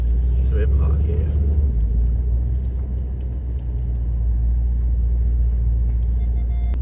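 A Mercedes E63 AMG car drives with a deep, steady low rumble and road roar heard from inside, with a brief voice near the start.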